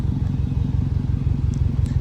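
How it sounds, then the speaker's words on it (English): A Subaru WRX on its OEM exhaust idles with an exhaust leak, producing a close, steady, rapidly pulsing low rumble with a faint ticking edge and no talking. "the exhaust leak is right there"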